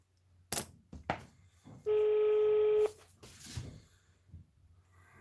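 A telephone call being placed: a couple of button clicks, then a single steady ringback tone about a second long, followed by faint handling noise in a quiet room.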